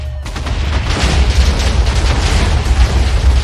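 Minecraft TNT blasts tearing apart an island, a dense continuous rumble of overlapping booms that stays loud and steady throughout with no talking.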